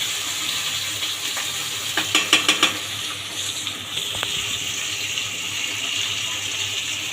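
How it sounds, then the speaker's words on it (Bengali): Poa fish crisp in a pan of hot oil with a steady close sizzle and hiss, joined by a short run of sharp spatter pops and a couple of metallic taps. "মাছগুলো আমি কড়াভাবে ভেজে নিচ্ছি।"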